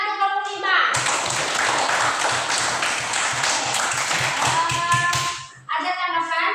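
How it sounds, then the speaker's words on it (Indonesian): Students clap together for a classroom group presenting a math lesson, a dense burst of hand claps lasting several seconds, with children's voices before and after. "tepuk tangan untuk kelompok 5"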